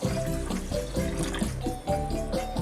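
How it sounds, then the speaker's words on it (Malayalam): Raw white rice is washed in water, with sloshing, swirling splashes and a faint tap-like running sound coming in short pulsing bursts, close by and with no talk. "ഈ പച്ചരി ഒന്ന് നന്നായിട്ടൊരു 3-4 പ്രാവശ്യം ഒന്ന് കഴുകി എടുത്തിട്ട് വരാം"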